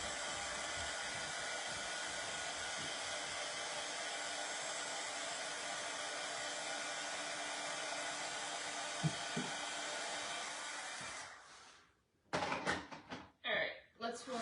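A hair dryer blows steadily and loud for about eleven seconds, drying freshly wetted material at an embroidery station, then cuts off, followed by a few bumps and handling noises.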